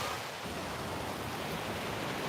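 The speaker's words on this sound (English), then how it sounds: "We should take one last look at this gorgeous beach and focus on those waves." Ocean waves breaking on a beach, a dense broadband rushing wash that stays steady and loud across the whole short stretch, with no talking.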